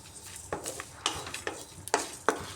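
Spices frying in a pan for vegetarian alur dum, with close stirring scrapes and soft sizzle, several sharp utensil strokes against the pan at irregular intervals.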